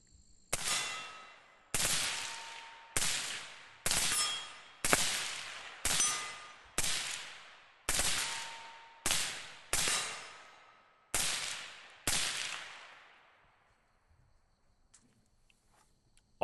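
Gunshots fired at a target from a handgun fitted with a Laserspeed M6TR-VCSEL white light, about eleven sharp reports at a steady uneven pace with some pairs close together, each ringing out and decaying, then quiet.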